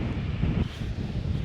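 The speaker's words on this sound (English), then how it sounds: "it's raining again and it's windy" Gusty wind on the Isle of Skye on a rainy autumn day near a waterfall, a steady low rumble buffeting the microphone throughout with no voices.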